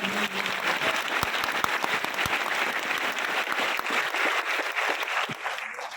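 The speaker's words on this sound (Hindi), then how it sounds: "जो आपको लेके आया है यहाँ उसके लिए ताली बजानी है" An audience at a Vestige direct-selling business meeting claps steadily and loudly for about six seconds, dense clapping near the listener that thins out toward the end.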